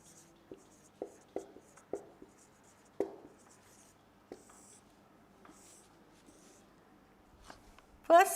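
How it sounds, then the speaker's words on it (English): Handwriting on a board during an English grammar lesson, a series of short taps and strokes, close and moderately loud, with soft background hiss and a louder knock at the end. "Okay, I will just write setting here."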